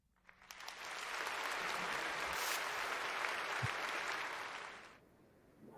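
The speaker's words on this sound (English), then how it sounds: "A round of applause for this amazing talk." Applause from an audience after a developer conference talk on mobile development builds quickly, holds as a broad steady wash of clapping for about four seconds, then cuts off, leaving a faint quiet room.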